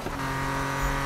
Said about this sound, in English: I love the crackle, man. A little bit of extra fuel in the exhaust.